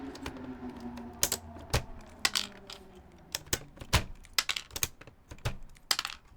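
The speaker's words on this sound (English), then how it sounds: "We need to pull the keycaps off first." Keycaps being pulled off a Topre keyboard give a run of sharp plastic clicks and snaps at irregular intervals, close and fairly quiet, over faint background hum.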